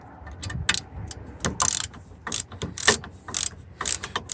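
An antenna mount for a Weboost OTR is unscrewed by hand on a Travato camper van, giving a run of close, irregular metallic clicks and ratcheting scrapes as the threaded parts turn.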